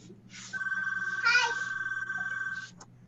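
A home landline telephone rings loudly and steadily in repeated electronic trills lasting about two seconds, with faint background noise and no speech over it.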